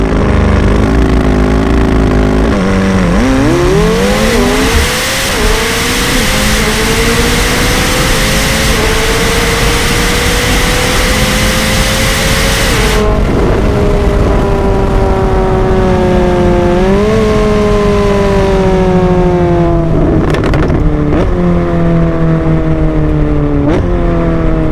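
McLaren 720S sports car engine revving hard while driving, loud and continuous, with rising pitch sweeps through gear changes and a sudden drop near the middle, then steady high-revving drone with more shifts; no talking.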